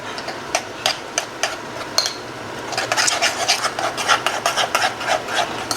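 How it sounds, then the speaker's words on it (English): A spoon stirs oatmeal with rhythmic scraping and rasping strokes, close and fairly loud, first as separate scrapes and then as faster, denser stirring toward the end. "Get the oatmeal all stirred up."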